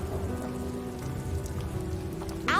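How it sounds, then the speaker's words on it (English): Rain falling steadily as a dense patter on a surface, with a low hum beneath and a sudden brief noise burst at the very end. "Now it's raining on just us."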